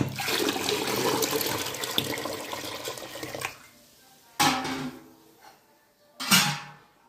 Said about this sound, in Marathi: आणखी पाणी टाकू आपण